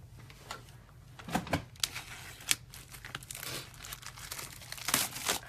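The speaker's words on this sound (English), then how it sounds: "So let's open up this package." Plastic wrapping crinkles and tears as a package of cards is opened at a craft table, a run of close, irregular crackles and rips with sharper bursts scattered throughout.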